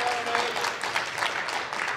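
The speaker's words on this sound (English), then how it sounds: "I think you hear a little bit of applause from the Finnish crowd there" Light applause from a Finnish crowd at an 8-ball pool match, a steady patter of clapping that fills the short moment at a fairly quiet level.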